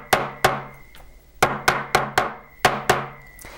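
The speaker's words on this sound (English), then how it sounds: "I'm going to take this plastic mallet end of this hammer and flatten that out" A plastic mallet end of a hammer pounds a warped metal piece flat on a hard work surface, nine sharp, close, ringing strikes arriving in uneven clusters with brief metallic ring after each blow.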